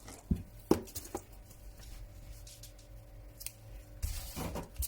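A few sharp snips of scissors cutting garden string at uneven intervals, fairly quiet against a low background hum, with small handling clicks in between.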